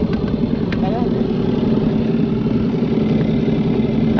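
A small boat motor runs steadily nearby with a constant low chugging drone during a fishing tournament in Zapata, Tabasco, while a voice speaks briefly over it.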